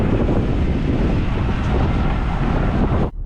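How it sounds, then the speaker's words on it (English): Strong wind ahead of an approaching storm roars steadily across the microphone in a loud, broadband rush that cuts off abruptly at the end. "Super windy. We're about to have a massive storm come through."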